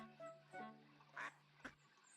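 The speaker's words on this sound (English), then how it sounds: "Oh, ducks." Ducks quack three or four times in a building video game, short nasal calls spaced across the moment, with a sustained tone and soft water ambience underneath.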